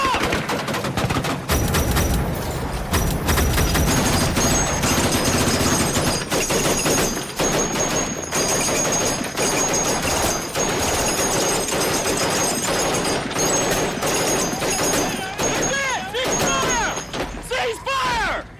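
Soldiers firing rifles and machine guns in combat during a war documentary, loud rapid bursts and volleys hammering almost continuously, with shouting voices mixed in and whistling ricochet-like tones near the end.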